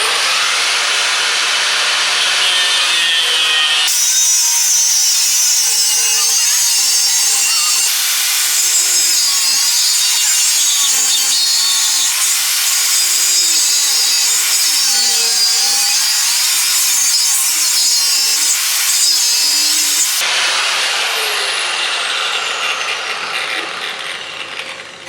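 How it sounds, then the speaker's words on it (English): Continuous harsh grinding or sawing of metal as a bracket is cut from an old Volvo 940 axle, loud and close with a shrill, fluctuating whine that holds for about sixteen seconds between quieter stretches. "I figured it was easier to cut a bracket off the old axle than it was to make a new one"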